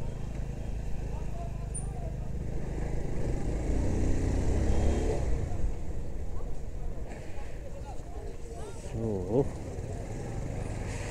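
A motorbike with low tyre pressure rides along during a jatra festival trip near Tokha, its engine a steady, fairly close drone with wind noise and a few gear changes and revs.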